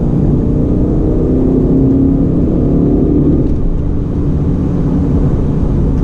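A 2019 BMW M850i gives a loud, steady low engine drone from inside the cabin with a slight shift in pitch midway, under heavy road rumble, and no voices.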